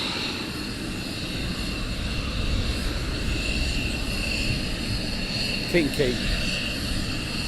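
A military jet taxiing at RAF Lakenheath gives a steady, loud engine drone with a high whine, continuous across the whole stretch, while people talk over it.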